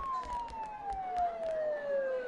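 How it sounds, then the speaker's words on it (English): A single siren wails close by, its tone sliding steadily downward, with faint bumps of other noise underneath and no talk. "Don't those sirens sound really close?"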